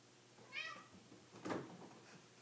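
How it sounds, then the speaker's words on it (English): Indoor house cats meowing, a clear drawn-out meow followed by a second shorter cry, close and fairly quiet against a soft room background. "Ignore my cats, they're going crazy because it snowed here."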